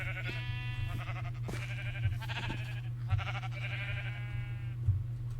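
Repeated sheep bleats from Minecraft, several harmonic calls spaced through the stretch over a steady low game hum, close and clear with no talking.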